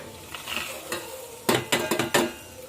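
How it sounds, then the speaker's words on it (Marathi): Garlic and peanuts fry in a pan for a quick dry poha snack, a low sizzle followed by a run of sharp, close stirring clatters against the metal. "जे मागीर लसूण बिसून सगळें बरें फ्राय जातले जरा अशें शेंगा बी मात्र भाजून घान सोडटे हांव"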